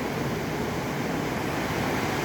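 Small sea waves on a fishing shore make a steady, dense wash of surf and wind noise, constant and fairly loud with no distinct breaks or voices.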